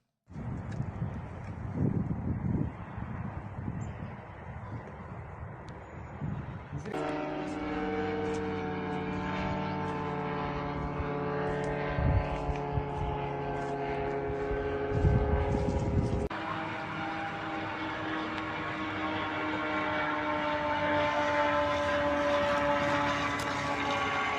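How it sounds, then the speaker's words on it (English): Attack drones fly toward the Ufa oil refinery in Russia, a steady droning propeller whine that holds throughout and shifts pitch abruptly a couple of times, loud and continuous over faint background rumble. "here's a 30-second clip showing drones entering the area"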